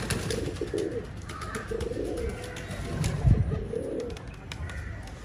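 Pigeons coo at a loft in low, repeated soft phrases, fairly close, with a faint chirp or two over light background noise.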